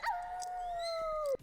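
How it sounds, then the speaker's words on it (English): A female dog gives one sustained, wavering howl that holds a steady pitch for over a second before cutting off abruptly, close and clear with no talk over it. "She does this weird howling thing."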